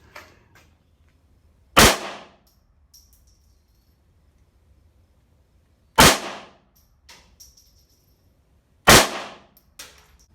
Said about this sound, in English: All right, those are my first 3 shots.